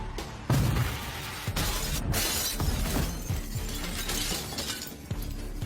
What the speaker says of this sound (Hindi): सभी खिड़कियों के टूटने के साथ